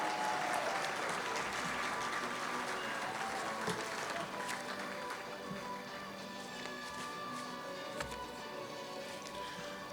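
Sustained audience applause fills a large hall at a county high school sports awards and hall of fame ceremony, steady clapping throughout with some crowd murmur and no speech over it.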